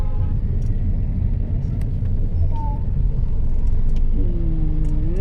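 Busy Davao City street where tricycles gather, a constant close rumble of motor traffic with engines idling and pulling away, a brief horn-like tone and a rising engine whine near the end.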